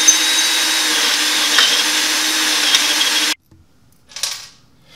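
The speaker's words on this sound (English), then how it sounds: "we're gonna drill these out to a 5/16 hole. Just ream them out" A power drill reams out bolt holes to 5/16 inch on a 2017 Harley air suspension install, whirring steadily and close for a few seconds, then cuts off, leaving near silence with a brief faint noise afterward.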